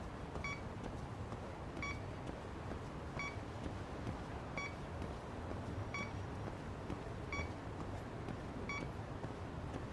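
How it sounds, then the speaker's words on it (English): A detector gadget in the Lost Judgment video game beeps steadily, with faint, evenly spaced electronic pings about every second and a half over a low background hum. "There's like beeps."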